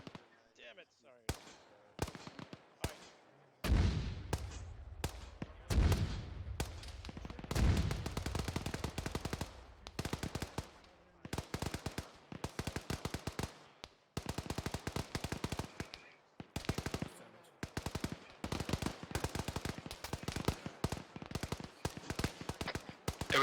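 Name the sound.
gunfire during a military field training exercise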